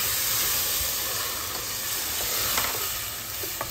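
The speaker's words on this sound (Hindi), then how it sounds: "अब हम इसमें अपने डाल रहे हैं ग्रेवी, टोमेटो की ग्रेवी जो हमने पहले ही बना के रखी थी" Tomato gravy hits a hot pan and sizzles loudly, a dense, steady frying hiss that eases slightly over a few seconds, with faint stirring clicks near the end.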